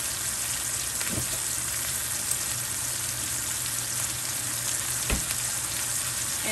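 Steak frying in a pan gives a steady, close sizzle throughout with no talking, broken by two brief louder pops or clatters.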